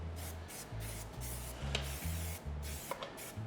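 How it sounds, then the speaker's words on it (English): Repeated short bursts of aerosol grease spray hiss onto a cake tin over a low humming drone, with a couple of faint clicks in between. "Just give it a light spray,"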